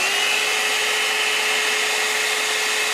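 A hair dryer blows with a steady, loud rushing whoosh and a constant whine underneath, heating a USB phone charger casing to loosen its glued halves, running unbroken throughout with no talking.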